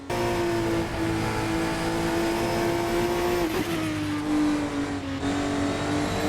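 A race car in a racing video game, styled like an F1 car and driven loose at the limit, holds a loud steady engine drone close up, with a brief pitch dip and tyre scrub as it slides, with no voices.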